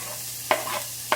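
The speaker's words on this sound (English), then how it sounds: "onion and kind of just saute it" Onion dropped into a hot cast iron pan gives two short, bright sizzling bursts about half a second apart, with a softer hiss between them, close and alone with no talk.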